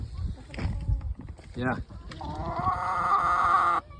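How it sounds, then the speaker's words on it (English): Hens cluck and squawk nearby on a farm, resting in the shade, with one drawn-out crowing call near the end, mixed with low background noise. "So all of our hens over here just staying cool, enjoying the shade."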